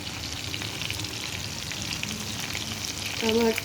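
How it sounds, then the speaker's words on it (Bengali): Soybean balls frying in oil in a pan, giving a continuous close sizzle and crackle, with a short high tonal chirp near the end. "ভাজা হচ্ছে"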